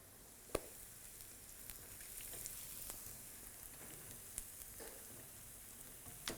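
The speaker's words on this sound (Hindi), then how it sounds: "ज़्यादा ब्राउन नहीं करना प्याज को, स्वेट करना है" Onions sweat in a pan for chicken curry gravy, giving a steady low sizzle with occasional faint pops and light clicks, quiet and even throughout.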